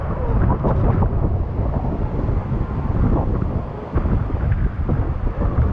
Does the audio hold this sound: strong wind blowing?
yes